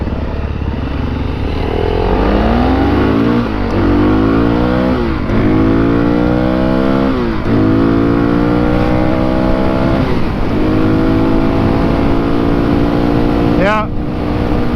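A Suzuki DRZ400S and a Honda CRF300L drag race on a straight road, their engines revving hard through repeated rising gear shifts, loud and close, with a sharp whine near the end.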